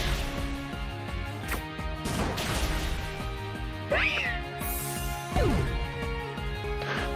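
Meowstic, a cat Pokémon in the Pokémon X video game, gives short synthesized cries amid battle hits and crashes over looping game music, with a couple of rising squeals standing out.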